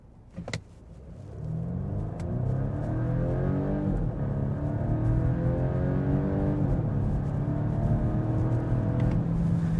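A Volvo V60 B5 Cross Country wagon launching in a 0-60 run, with a brief click, then a loud, steady rising engine drone whose tones climb through gear changes, heard from inside without talking.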